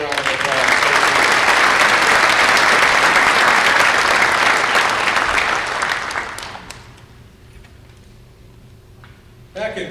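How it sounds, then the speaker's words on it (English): At the 2019 Griddy's awards ceremony, an audience breaks into loud, full applause that holds for about six seconds, then fades away into a quiet room with a brief sound at the very end. "Give them a wonderful round of applause."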